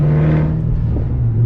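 A 2007 Ford GT500 with a new Steeda intake cone filter, its engine rumbling loudly and steadily up close with a strong low drone and a slight rise in revs, no voices over it.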